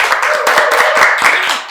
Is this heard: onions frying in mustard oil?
no